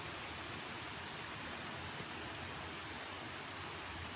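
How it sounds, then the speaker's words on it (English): Steady rain falls outside on an October day, a dense, even hiss of drops on surfaces continuing without a break and without any voices. "It's raining."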